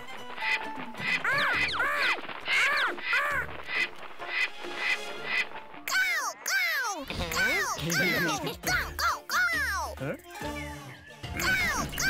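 A cartoon character imitates a crow with a rapid series of nasal, squawking caws, loud and repeated in quick bursts, with another voice briefly joining in.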